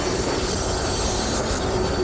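Steady rolling train noise from a cartoon steam locomotive running along rails, with continuous rumbling wheels and faint squeals, no voices.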